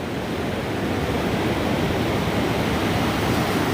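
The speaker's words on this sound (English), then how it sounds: "The ocean is very loud. So the tide is coming in." Ocean surf rolling onto Mission Beach in San Diego as the tide comes in, a loud, steady wash of breaking waves filling the whole clip with no voices.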